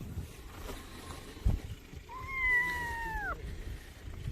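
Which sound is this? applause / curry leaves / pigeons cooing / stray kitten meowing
stray kitten meowing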